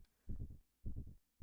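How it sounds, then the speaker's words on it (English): Slow, deep heartbeat in the video game Xenogears, paired thumps repeating three times, each a muffled double beat about every half second, fairly close and alone with no talk. "I can hear the heartbeats"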